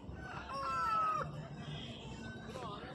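A rooster crows once, briefly, at a busy poultry market, over a steady murmur of crowd noise.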